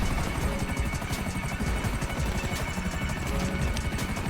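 A helicopter in the GTA video game, a steady rapid rotor chop thudding at an even pulse under a constant engine whine, moderately loud and unbroken.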